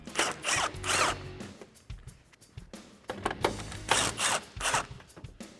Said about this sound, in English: Grab a 10mm socket and get these out.